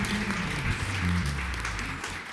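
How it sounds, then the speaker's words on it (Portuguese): A church congregation claps together in praise, a dense, steady wash of many hands sustained for the whole stretch at moderate distance, with no talking over it. "Pode dar uma salva de palmas para o nosso Deus?"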